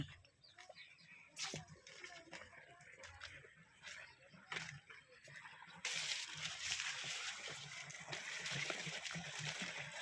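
Water runs and splashes as someone fills containers on a farm during Diwali, with a steady trickle that swells into a broader, louder gush partway through, over faint background activity.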